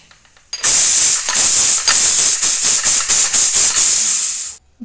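A pressure cooker boiling potatoes vents steam in a loud, continuous close hiss, pulsing slightly in a quick series of surges before cutting off abruptly.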